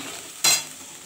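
A splash of water hitting hilsa fish masala frying in a pan, a single brief hiss burst against a quiet background sizzle.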